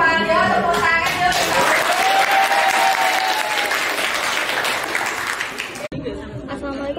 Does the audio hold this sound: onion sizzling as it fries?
no